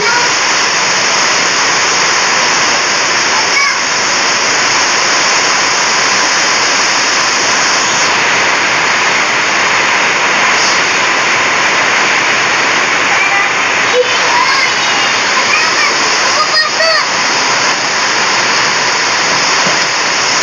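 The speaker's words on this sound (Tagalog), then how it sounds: "Grabe, lakas ng ulan." Loud, steady roar of heavy rain pouring down continuously, dense and unbroken throughout.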